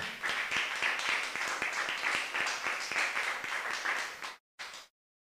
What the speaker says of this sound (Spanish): ¿Cuánto le dan una ofrenda de palmas al Señor, hermano?